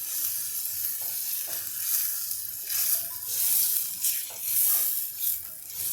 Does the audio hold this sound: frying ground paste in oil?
yes